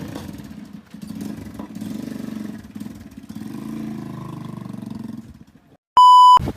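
A motorcycle engine runs as the rider sets off, a steady mid-loud rumble for about five seconds, then the noise drops away and a sharp electronic beep follows.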